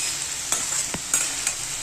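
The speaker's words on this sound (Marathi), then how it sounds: "ही मटकी तेलामध्ये चांगली फ्राय झाली" Steady hissing sizzle of moth beans frying in hot oil, with a few sharp scraping stirs breaking through at irregular moments.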